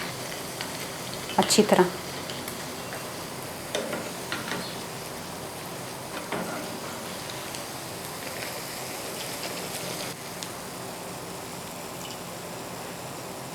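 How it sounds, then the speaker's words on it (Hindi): Bread slices frying in hot ghee in a pan, a steady soft sizzle running throughout with a louder burst of crackling near the start, while someone speaks briefly over it. "घी गर्म करने के लिए मैंने रखा हुआ है। ब्रेड स्लाइस को फ्राई करते हैं"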